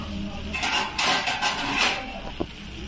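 A metal lid set down on a pan of frying potatoes on the stove, several light clanks and clinks over a steady sizzle.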